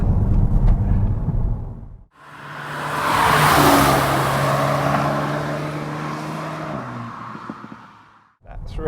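A VW Golf GTI with DCC suspension takes a bend at 60 mph on a country road, giving a loud, steady engine drone with broadband road and wind roar, heard from inside the car and swelling and easing through the corner.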